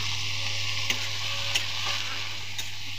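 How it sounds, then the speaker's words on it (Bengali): Okra and potatoes fry in a pan on the stove with a steady, faint sizzle, broken by a few brief scraping stirs of a utensil; no one speaks. "এই যে দোনো চুলাতে বসিয়ে দিচ্ছি ভেন্ডি ভাজা আর পিঠা করলা আলু ভাজা।"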